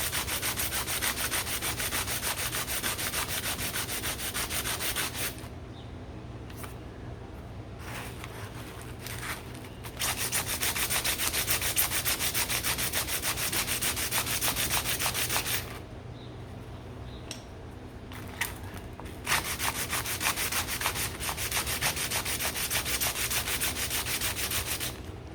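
Sandpaper rubbing back and forth on the wooden slider of a custom harp, a steady close rasping scrub in long strokes broken by two short pauses.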